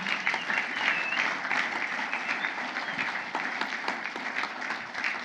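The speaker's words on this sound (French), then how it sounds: "Pourquoi vous acclamez comme si vous étiez fâché?" A church audience gives sustained applause and cheering at a sermon on finances, a dense, steady clatter of clapping hands continuing throughout.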